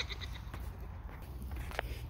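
Goats bleating in a pen on a farm field, a few short nasal calls at moderate distance over steady low background rumble.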